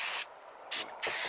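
An aerosol can of acetone-free brake and parts cleaner sprays onto an anchor winch install on a MacGregor 26 sailboat, three sharp close hissing bursts with brief gaps between them.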